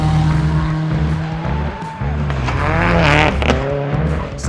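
Brandon Semenuk's rally car charging through a snowy ARA Sno*Drift Rally stage, its engine loud and close throughout, revving and shifting, with tyre noise and skidding as it slides through the stage.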